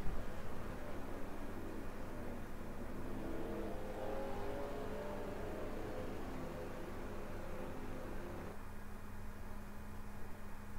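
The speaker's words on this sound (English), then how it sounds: "The rest of these cars catching up as here they come down pit road." NASCAR-style race cars in a racing video game roll down pit road, a steady dense engine roar and whir that stays loud and continuous throughout with no clear individual pass-bys and no voices.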